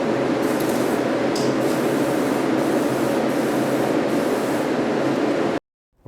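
A paint spray gun sprays a TH400 transmission, giving a continuous loud hissing spray with brief bursts as paint builds at the nozzle tip, stopping abruptly near the end.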